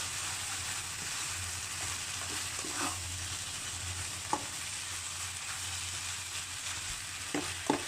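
Glass noodles in a Thai stir-fry with mixed seafood and holy basil, tossed in a pan: a steady soft sizzle with a low hum beneath and occasional sharp scraping clicks, no talking.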